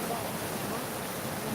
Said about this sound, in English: And the water, there's a weir down there.